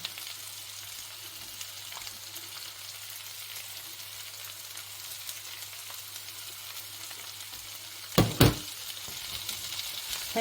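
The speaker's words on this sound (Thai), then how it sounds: "เราก็จะผัดไปให้หอมมันออก" Potatoes stir-fry in a pan with a steady, close sizzle that hisses continuously, broken near the end by a couple of sharp clatters from a utensil against the pan.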